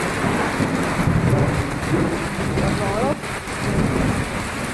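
A low rumble of thunder rolls under steady heavy rain, with a faint voice briefly heard amid the downpour.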